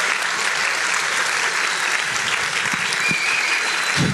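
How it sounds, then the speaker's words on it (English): An audience at a school winter music festival concert gives a sustained, full round of applause that holds at a steady loud level throughout. "Please, a round of applause for them."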